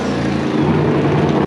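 A turbocharged car engine running on gasoline with a new throttle body idles in a loud, steady, droning rumble close by, with no talk.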